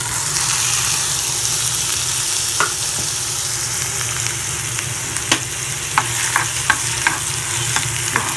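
Onions fry with masala in a pan, giving a continuous close sizzle broken by repeated scraping clicks of a spoon stirring, with no voices.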